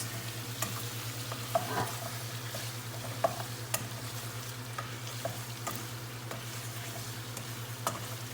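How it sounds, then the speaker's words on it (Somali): Meat frying in a pan while being stirred, a quiet continuous sizzle broken by regular scrapes and clinks of the stirring utensil, with no voices. "waxaan ku shiilaa hilibkii"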